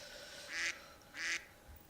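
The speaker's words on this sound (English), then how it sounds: "And I get a duck horn." Two short, bright quacks from a duck-style horn on a Sparrow vehicle in the Destiny video game, evenly spaced and fairly faint, with no talk over them.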